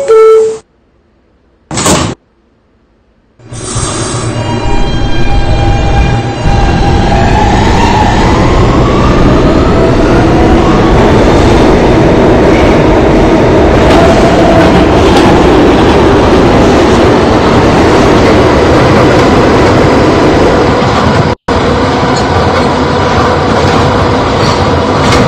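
An R160 F local subway train rumbles loudly and steadily after a few quiet seconds, a continuous roar of wheels and motors with occasional rattles.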